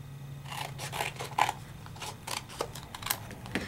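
Scissors snipping gold glitter paper to size, a series of quick crisp cuts in an uneven rhythm, close and fairly quiet.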